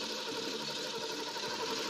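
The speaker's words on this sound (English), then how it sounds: "We want to crank it, get a little bit of oil circulated out throughout the motor." 1969 De Tomaso Mangusta engine cranking over on the starter without firing, a steady, even whirring churn held for the full couple of seconds, close and moderately loud.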